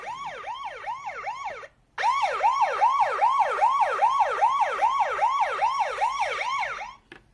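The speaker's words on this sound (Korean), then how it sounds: "또다시 소방차가 출동했어" A wailing fire truck siren rises and falls rapidly in a repeating pattern, loud and close, briefly cutting out before resuming and then stopping.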